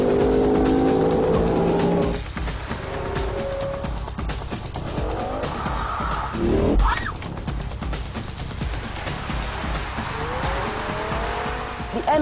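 BMW M5 lapping a sodden, wet race track, engine roaring loudly with shifting pitch as it accelerates and brakes, spray hiss and brief tire squeals, heard close from inside or near the car.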